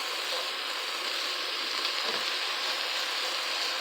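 Bacon sizzling in a pan over medium-high heat, a steady dense crackling hiss that stays loud and even throughout with no talk.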